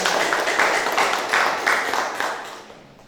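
A classroom of students claps together, a dense patter of many hands that swells briefly and then tapers off toward the end.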